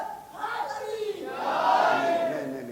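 A crowd at a religious gathering shouts back a slogan in unison, a swelling roar of many voices that dips briefly, then rises louder and holds.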